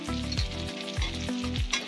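An onion, tomato and spice masala fries with potato in a pan, with a continuous close sizzle and brief stirring under a tonal background.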